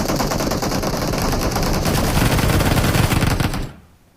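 Sustained automatic gunfire from the Free Fire video game, a dense, loud, continuous burst of rapid shots lasting several seconds that cuts off abruptly.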